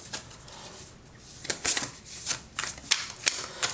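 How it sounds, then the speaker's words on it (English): Tarot cards shuffled by hand, close up, in a quick series of crisp riffling bursts with short pauses between them; no talking. "Let's get some tarot cards out for you, pile number 2."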